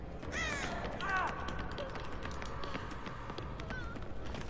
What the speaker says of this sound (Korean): 까마귀, 아, 좀 일어나라 임마.